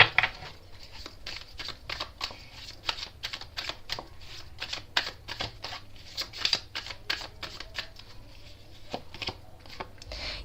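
Tarot cards shuffled by hand give a rapid run of crisp, close riffling snaps and soft slaps in an uneven, busy rhythm, with no voice over them.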